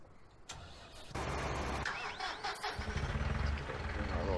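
A tractor engine in a farming video game starts and then runs at a steady mid-pitched drone. It stays loud and continuous, with clunks and layered game noise over it and voices talking in the background.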